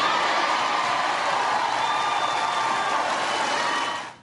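A large enthusiastic crowd at a President Obama rally in Texas cheers and applauds in a steady, dense roar that fades out at the end.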